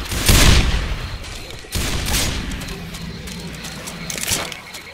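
Gunfire in Left 4 Dead on the Swamp Fever campaign at Expert difficulty, aimed at mud men: loud bursts of shots near the start and again mid-clip, then a steady rattle of fire that tails off with faint talk underneath.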